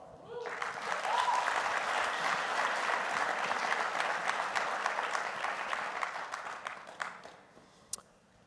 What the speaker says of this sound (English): So those guys got way more applause than I did